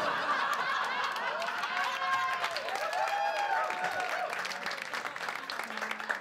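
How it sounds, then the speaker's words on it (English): Audience applause fills a comedy club after a stand-up joke, steady dense clapping mixed with scattered laughter and snickers throughout, fairly close and continuous. "I feel worse for you clapping at that than I did for writing the fucking thing"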